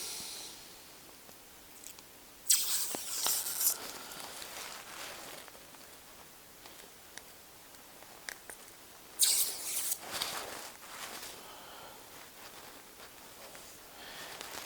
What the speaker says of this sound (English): peel the protector off the screen now